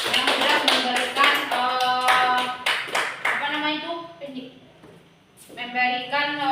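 Children in a primary school religious-studies class clap in unison for classmates, a fast steady run of sharp claps with young voices chattering through it, a brief lull, then clapping resuming near the end.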